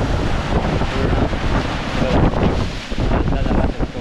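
Sea surf rolls in as high tide begins at a rocky cove near Shrivardhan, a loud, continuous rush of waves heavily mixed with gusting wind buffeting the microphone.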